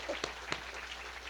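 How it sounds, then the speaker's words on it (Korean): Church congregation at a revival meeting claps, a faint, distant patter of many hands with a couple of louder claps near the start, heard without speech. "한 박수 한번 칩시다."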